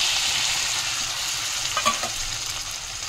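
Paneer curry ingredients fry in about two spoons of butter in a kadhai, a continuous close sizzle with occasional scraping stirs of a spoon and no voices.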